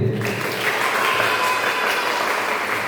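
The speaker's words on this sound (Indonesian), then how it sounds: "Coba tepuk tangan lagi untuk diri sendiri." Audience applause during a school guidance counseling session in Indonesia, students clapping for themselves; a dense, continuous wash of clapping from a group, fairly loud and steady throughout.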